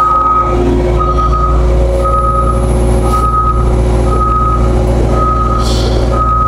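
A truck backing up while its reversing alarm sounds a steady series of loud, evenly spaced beeps over a deep idling engine rumble, with a short hiss near the end.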